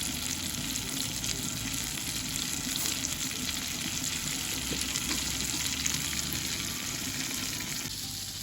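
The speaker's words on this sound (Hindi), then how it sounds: "थोड़ा सा कुकिंग ऑयल लेंगे और इसमें हम डालेंगे 1 टेबल स्पून जीरा" A tablespoon of white cumin seeds sizzles in hot cooking oil in a pan, a steady, close crackling fry that continues evenly throughout.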